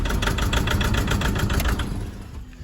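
Toyota Dyna engine stumbling on two cylinders after a crank-no-start fuel fault, a loud, uneven, pulsing idle with rhythmic chugging that fades slightly at the end.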